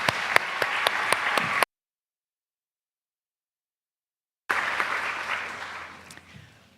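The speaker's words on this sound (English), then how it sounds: "Please join me in one more round of applause for our Vantage Gold partners." Audience applause at a corporate awards celebration, dense steady clapping from a crowd that stops abruptly, then returns after a gap of silence and gradually thins and fades out.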